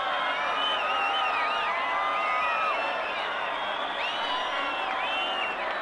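Football stadium crowd roaring and whistling after Maicon's goal for Brazil against Portugal, a dense sustained wall of cheering with high shrill whistles rising and falling, loud and distant-sounding.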